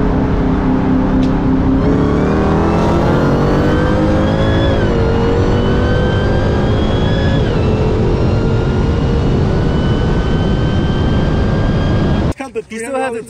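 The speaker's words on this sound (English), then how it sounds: "I just recorded this Hellcat racing." Onboard Dodge Hellcat drag racing: a loud, continuous engine roar climbs steadily in pitch through several gear shifts, close and dominant, before cutting off abruptly near the end.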